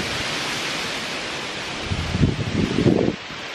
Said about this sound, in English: It's a blustery day. It's windy.